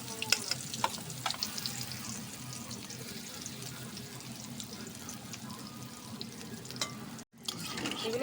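Banana flower fritters sizzle steadily in a pan of hot oil, a dense, even crackle with a few sharper pops and a brief dropout near the end, and no voices over it.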